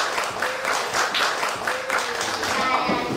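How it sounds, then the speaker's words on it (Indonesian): Children applauding for Mas Edo after his story, a steady crowd of small hands clapping in a continuous patter with rhythmic swells, close and moderately loud, with faint voices underneath. "tepuk tangan anak-anak buat Mas Edo atas ceritanya"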